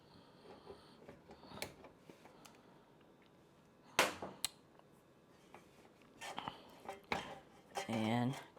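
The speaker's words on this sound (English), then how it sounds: "I am going to remove the paddle" A kneading paddle comes out of a bread machine full of risen whole wheat dough, giving quiet scattered clicks and a few sharper metallic clanks over low background noise.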